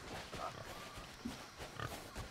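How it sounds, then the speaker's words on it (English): Pigs grunting and oinking in the pirate video game Sea of Thieves, several short snorts scattered over a faint, noisy game background. "Another chest. Pigs."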